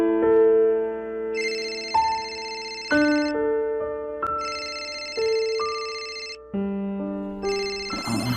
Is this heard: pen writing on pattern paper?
no